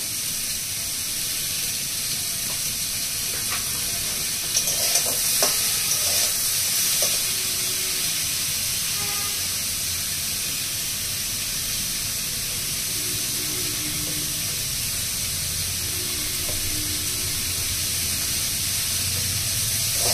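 Vegetables for shukto fry in a pan with a steady, loud sizzle that carries through, joined by occasional stirring scrapes and clinks.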